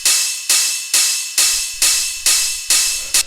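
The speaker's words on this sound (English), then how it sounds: "So what this is it's just a ride cymbal." A hard techno ride cymbal layered with an open hi-hat strikes eight times in a steady, even pulse, each bright metallic hit washing out before the next.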